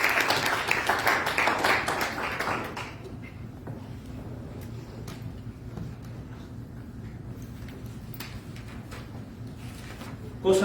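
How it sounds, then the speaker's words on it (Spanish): Church congregation applauding during a sermon, a full burst of clapping for the first few seconds that fades into scattered claps over low room noise. "Dale un aplauso a Dios"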